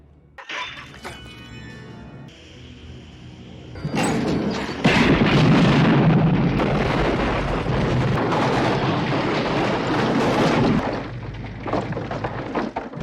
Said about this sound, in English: a gas cooker explosion is pretty pedestrian